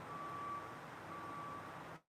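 Two faint, high reversing beeps from a truck sound over a steady low rumble, then everything cuts to silence.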